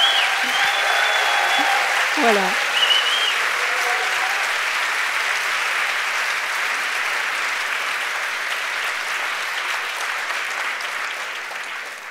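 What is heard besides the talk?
audience applause at a conference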